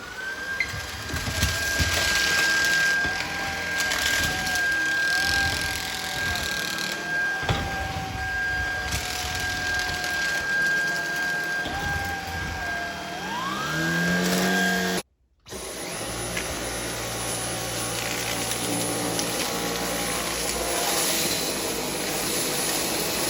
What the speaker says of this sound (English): I'm actually gonna go ahead and clean up the rest of this mess with the Shark